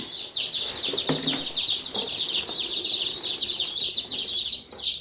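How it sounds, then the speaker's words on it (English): A crowd of baby chicks peeps continuously in high, shrill chirps, close by and busy, with a few soft rustles underneath. "we have the chickens in the brooder"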